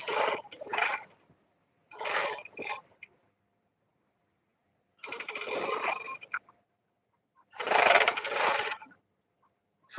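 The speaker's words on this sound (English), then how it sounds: "I'm going to start zigzagging my flounce or overlocking my flounce." A sewing machine zigzag-stitches along a fabric flounce in four short bursts of fast mechanical whirring, separated by silent pauses.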